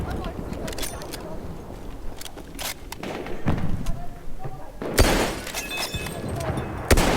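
A bullet strikes glass in the Battlefield 1 video game. Sharp shattering bursts and thuds sound amid busy in-game noise, and a voice talks over them.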